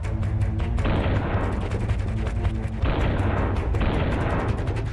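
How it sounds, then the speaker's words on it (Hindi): Artillery shells fire and explode in the Russia–Ukraine war, a dense, continuous rumble of booms and blasts, with two heavier surges of impacts. "तोप के गोलों का ताबड़तोड़ प्रहार"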